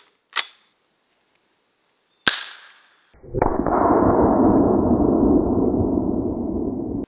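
Two sharp, echoing shots crack out from a camo-wrapped AR rifle loaded with rubber bullets, each fading quickly, and then a loud, steady rumbling noise follows and continues.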